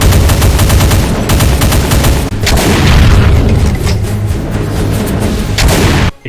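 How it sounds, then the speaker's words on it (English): Archvile variant from a Doom mod loosing a loud, dense barrage of projectiles, with booming, gunfire-like blasts and continuous rapid bursts that fill the whole stretch before stopping abruptly. "It can throw a row of straight projectiles or a spread of them"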